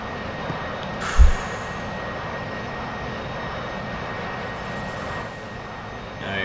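A jet engine roars at a steady, loud pitch as an aircraft in DCS World attempts a takeoff without a catapult, one brief thump near the start and the sustained drone continuing throughout.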